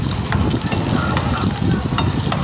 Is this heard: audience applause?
no